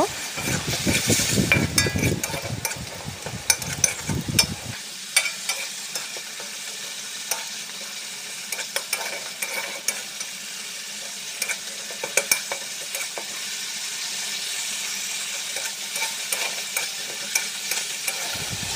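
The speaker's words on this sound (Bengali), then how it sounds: "মশলাটা ভালো করে কষিয়ে নেবো তেল ছাড়া পর্যন্ত" A thick spice paste sizzles and spits in hot oil while a spoon scrapes and stirs it, loud at first, then a steady close hiss with intermittent clicks.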